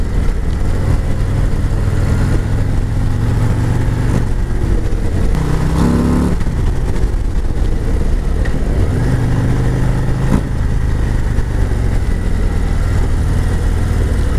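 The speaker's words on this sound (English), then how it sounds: "my ride on the Harley Road King" A Harley-Davidson Road King motorcycle rides at speed, its deep engine rumble loud and continuous under heavy wind noise, with a few shifts in pitch as the throttle changes.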